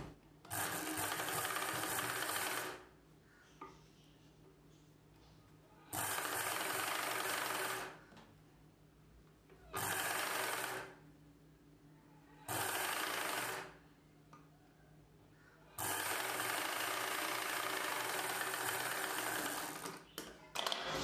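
A sewing machine stitches a folded blouse collar piece in five loud, steady whirring bursts, each lasting a few seconds with short quiet pauses between, the last run the longest.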